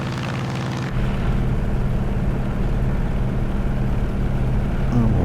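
Grumman F6F Hellcat with its 2000-horsepower radial engine, in a flight simulator, roars steadily and loudly at full power as it climbs away after takeoff, a brief quieter stretch giving way to a sustained heavy drone.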